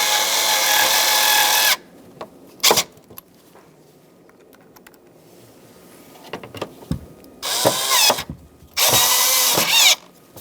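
Top screws being driven into the heater fan control switch panel of a 1997-2006 Jeep Wrangler with a Phillips screwdriver or 5/16 socket: several separate bursts of loud buzzy whirring, with short pauses and small clicks between them.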